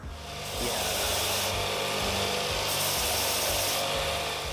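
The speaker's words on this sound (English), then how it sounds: "all you have to do is strip some sandpaper, wrap it over, put it down to the bottom if you want it like really rounded" Sandpaper rubbing and shaping a wooden knife handle, a steady continuous rasping scrape with rhythmic back-and-forth strokes, loud and close, without talk.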